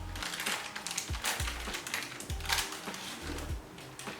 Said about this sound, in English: Sorry, like concentrating because I want to cut these well.